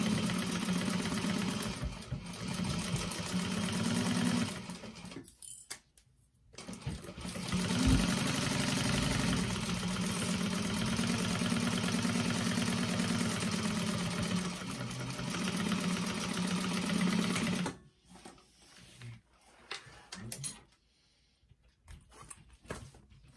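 Sewing machine stitching a seam on a tote bag, a loud, fast, steady whirring hum that runs in long bursts with brief pauses and a quieter stretch near the end.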